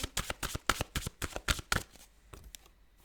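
Tarot cards being shuffled and drawn: a quick run of close, crisp riffling flaps in a steady rhythm, then a few slower, softer card slaps as it trails off, with no speech.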